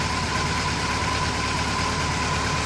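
Steady idle of a Kawasaki Concours C10 motorcycle engine with carburetors, a constant even hum with a faint whine, close by and with no talking over it.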